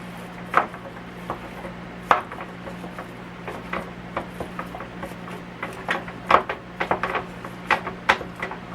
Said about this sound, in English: I'm going to break all this meat up and brown it.